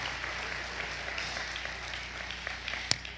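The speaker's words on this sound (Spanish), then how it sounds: "¿Cuántos le dan un aplauso al Señor?" A church congregation applauding during a sermon, a moderate wash of many hands clapping at a distance in a reverberant hall, steady throughout with one sharper clap near the end.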